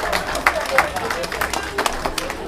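Audience clapping at an awards ceremony in a hall, a steady crowd applause with scattered sharper claps, moderately loud and continuous with some crowd murmur.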